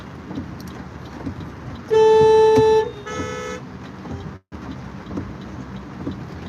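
Car horns blare in a traffic jam on a usually empty road in West Bengal, India: one long loud honk followed by a shorter second horn over a steady rumble of engines and road noise.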